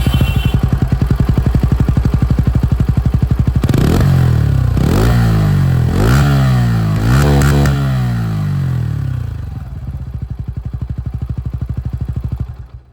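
Bajaj Pulsar N160 motorcycle with an underbelly exhaust, loud and close: a steady idle throb broken by several sharp throttle blips that rise and fall, then a settling back to a lumpy idle that fades near the end.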